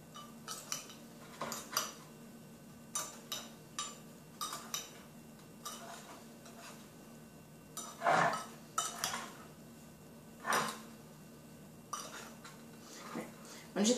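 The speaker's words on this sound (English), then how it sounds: "And you're going to mix that up." A spoon stirs strawberries and a teaspoon of flour together in a mug, giving a string of close, light clinks and taps against the sides, spaced irregularly with brief quiet gaps between them.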